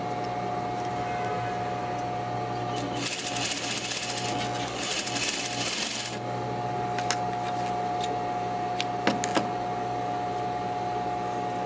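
A sewing machine stitches apron fabric in one rapid, steady mechanical run of about three seconds, with quieter handling clicks before and after over a constant room hum.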